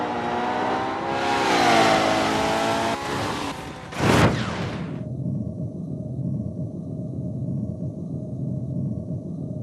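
A licensed rally car in a racing video game revs loudly and accelerates, its engine note rising before a sharp burst, then the roar cuts out and leaves a steady, lower engine drone.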